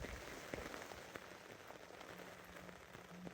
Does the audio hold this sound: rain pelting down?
yes